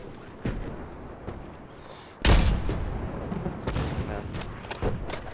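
Rapid bursts of automatic gunfire from a shooter video game crack out in sharp volleys, with one heavy blast midway followed by scattered shots and a brief spoken word from a player.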